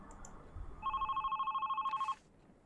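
In the video game Love, Sam, a phone gives one burst of rapid electronic bell trilling lasting just over a second, cut off by a soft click, set against a quiet room background.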